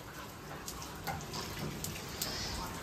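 Steady rain falls outside a house on a stormy day, a soft even hiss with scattered drip-like taps, fairly quiet and without other sounds.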